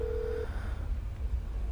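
A brief steady electronic phone tone sounds as a call is dialed in the GTA 5 video game, cutting off after under half a second and leaving a low hum and soft game ambience.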